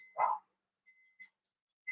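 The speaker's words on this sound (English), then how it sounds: "Enough. No more barking." A single sharp dog bark up close, followed by a few faint, brief yips and whines in an otherwise quiet room.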